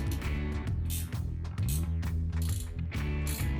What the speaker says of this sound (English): Now take your 14mm wrench and tighten these bolts down.